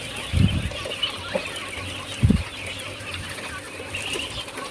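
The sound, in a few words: turkeys clucking at an egg farm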